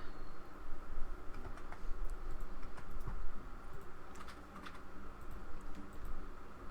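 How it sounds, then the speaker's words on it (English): Steady clicking of a mechanical computer keyboard being typed on in the background of a Planet Zoo gaming session, a continuous patter of light keystrokes under a low constant hum, with no talking. "if you hear typing in the background,"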